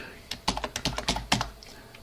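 Quick keystrokes on a computer keyboard entering a command at the TempleOS command line, a close burst of about a dozen irregular clicks with a few louder taps, then quiet.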